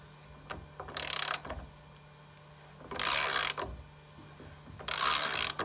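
A grade 8.8 metric screw is turned in a stripped thread in wood, producing three separate bursts of rapid ratcheting clicks about two seconds apart, fairly close and loud over a steady hum.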